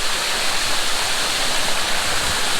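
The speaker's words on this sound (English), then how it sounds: "This is her element with waterfalls." A waterfall along an icy, wet hiking trail roars as a steady, dense rush of falling water, close and constant throughout with no voices.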